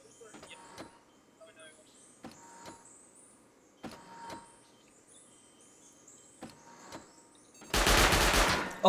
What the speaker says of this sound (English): he's getting shot by the turrets